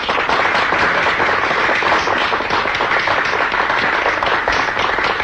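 An audience claps for a singer before he performs, giving dense, steady, fairly close applause that holds at an even level throughout without a break.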